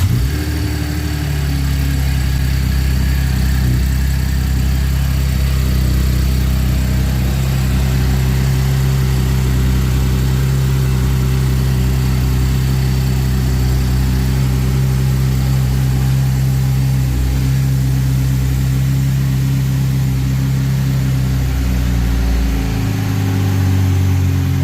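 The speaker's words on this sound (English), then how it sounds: "we're going to do a cold start on Jonathan's car for the first time." A 2012 Chevrolet Camaro V6 fired up from cold after a radiator swap and oil change, idling loud and close with a steady low drone and a slight drop in engine pitch near the end.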